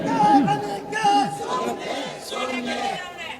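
A large crowd at an Islamic religious gathering chants a takbir slogan in unison, a loud, sustained mass of raised voices repeated in waves with a lead voice calling out among them.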